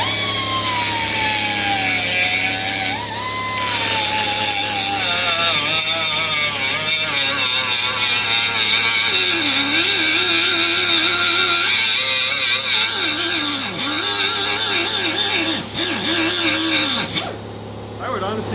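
Harbor Freight air-powered die grinder running on compressed air: a loud, steady high-pitched whine with wavering pitch through most of the clip, dipping briefly, and someone talking over it.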